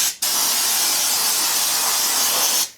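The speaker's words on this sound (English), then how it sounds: "So I've got the fluid film gun ready to rip." Fluid Film rust protection blasts from a spray gun under a Dodge Diplomat: one steady, close, loud hiss that starts abruptly, holds for about two and a half seconds, then cuts off.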